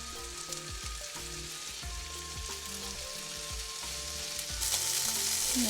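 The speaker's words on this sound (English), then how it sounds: "rub some butter in the pan so the meatballs, they don't stick to the pan" Meatballs fry in butter in a pan for mini burgers, giving a steady loud sizzle with scattered crackles and pops throughout, swelling brighter and hissier near the end.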